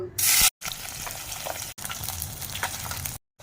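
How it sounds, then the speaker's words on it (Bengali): Salted, turmeric-coated pabda fish fry in hot mustard oil, a loud, close, steady crackling sizzle with a sharp hiss at the start and brief cuts of silence. "তেলটা রেডি হয়ে গেছে, এবার মাছগুলো ফ্রাই করে নেব।"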